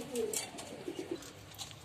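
Cooing from a pigeon suffering from pox, a drawn-out throaty note followed by three quick soft pulses, close and moderately quiet with no voices.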